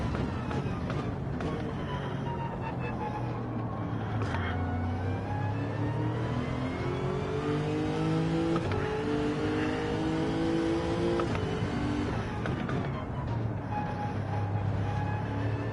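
A race car in a racing video game, approaching a kink on the Daytona circuit, climbs through its gears with repeated rising engine whines and shifts, up close and continuous, while someone talks over it.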